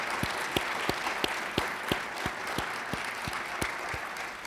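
At an award ceremony, an audience claps in a steady, rhythmic beat, with distinct sharp claps repeating about every third of a second over a dense background of clapping.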